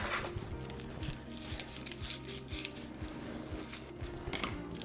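Scissors snipping through paper marked as a circle to fit a cooking pot in a kitchen, faint quick cuts in an uneven rhythm with soft rustling, no talk.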